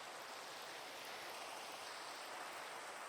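Steady, soft hiss of falling rain in a Minecraft world, an even wash of noise with no voices.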